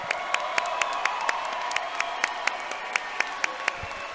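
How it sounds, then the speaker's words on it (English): Crowd applause fills a fight venue after a three-round bout at SSP 59, Jonah Serrano against Roberto Arias, a steady wash of clapping and cheering with sharp claps standing out above it. "let's give both fighters a big round of applause"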